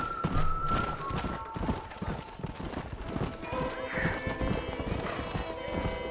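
A galloping horse's hooves clatter rapidly in Red Dead Redemption, joined by a whinny partway through, with music and effects underneath.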